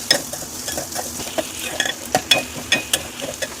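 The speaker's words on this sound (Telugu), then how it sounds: "ఇందాక చెప్పుకున్న ఆనియన్స్, వెల్లుల్లి, కరివేపాకు, ఆనియన్, ఎండుమిరపకాయలు, పచ్చిమిర్చి వేసుకొని ఫ్రై అవ్వాలి" Onions, garlic, curry leaves, dried red chillies and green chillies frying in oil in a pan, a low sizzle broken by repeated sharp scraping and clinking strokes of a spatula stirring at an irregular pace.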